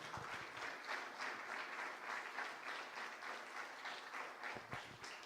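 Applause for Jesus in a church during an evangelist's sermon, a steady wash of congregation clapping heard faint and distant, with a few sharper claps standing out near the end.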